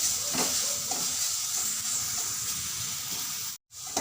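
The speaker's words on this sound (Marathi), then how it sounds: "तर यामध्ये छान परतून घ्यायचं आहे" Steady, close sizzling hiss of ground rice sautéing in ghee, with faint scraping as it is stirred, and a brief dropout near the end.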